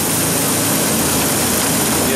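Ford Ranger 4.0 OHV engine running with a modified exhaust, a loud, steady, close-up broadband drone that fills the clip without letting up.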